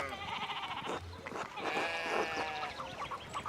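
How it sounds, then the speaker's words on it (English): Sheep bleat in a rural scene in the video game Pentiment, a steady layered bleating close by with farm-animal cries overlapping throughout, and no talk over it. "we need to get these sheep under control"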